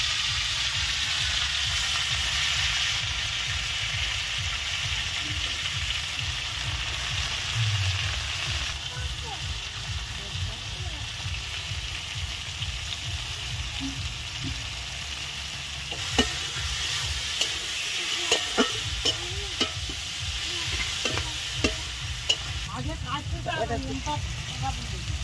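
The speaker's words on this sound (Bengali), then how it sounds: "পালং দিয়ে দিচ্ছি, তেলে দিয়ে দিচ্ছি।" Spinach frying in hot oil with spices for a lentil dish, a loud, continuous sizzle heard close up with stirring clatter and scraping of a utensil in the pan, strongest toward the end.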